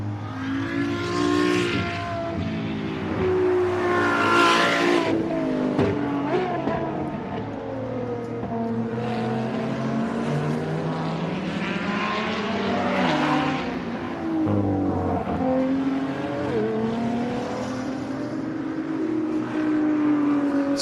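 A Ferrari road car with hybrid F1-derived engine technology at the American Speed Festival at M1 Concourse, revving loudly and repeatedly, rising and falling in pitch as the throttle is blipped, close by and sustained without speech.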